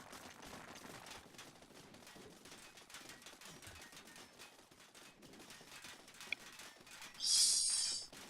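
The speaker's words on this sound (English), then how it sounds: "Oh, we're getting shot at now too." Gunfire in the video game TerraTech strikes the player's vehicle as a dense, steady rattle of rapid shots, fairly faint and continuous under game sounds, with a louder burst near the end.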